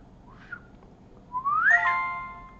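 A person whistles to locate an Android phone: a faint short whistle comes first, then a louder rising whistle, followed by steady electronic reply tones from the phone in a quiet room.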